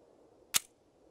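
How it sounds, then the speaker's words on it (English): A single round is loaded into a gun in the survival game Scum, making one sharp, bright metallic click in near silence, close and brief. "now, boys, we can load it with one bullet."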